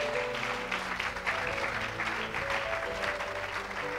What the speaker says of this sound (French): oui, on acclame le Seigneur